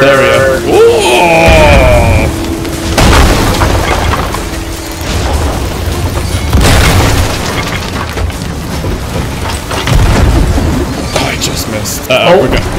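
Ship cannon shots and booming explosions in the video game Sea of Thieves, loud and near, several heavy blasts over a steady background of game noise, with players talking throughout.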